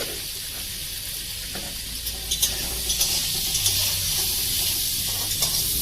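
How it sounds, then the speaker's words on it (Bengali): Sliced bitter gourd fries in hot oil with turmeric and salt, browning for a Bengali dal; a steady bright sizzle runs throughout, broken by soft clicks and scrapes of stirring. "এইভাবেই উচ্ছেগুলোকে লাল করে ভেজে নিতে হবে।"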